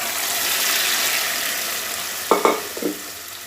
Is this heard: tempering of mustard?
yes